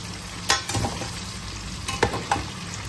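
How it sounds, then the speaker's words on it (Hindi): Cut potatoes fry in oil until golden, a constant close sizzle broken by several sharp scraping clatters of a spatula turning them in the pan; nobody talks. "इनका कलर जो है हल्का गोल्डन जब तक हो जाए उतना हमने इनको फ्राई करना है"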